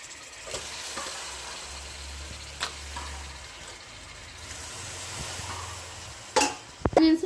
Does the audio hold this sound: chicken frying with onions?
yes